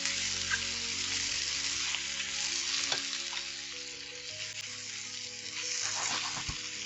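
Baby bella mushrooms sauté in a pan while being mixed, a continuous close sizzle with occasional spoon scrapes and soft clicks, no talking.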